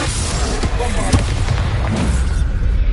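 A Bombarda blasting spell in Hogwarts Legacy bursts with a loud, deep boom, followed by rumbling debris and crackling blasts over about three seconds.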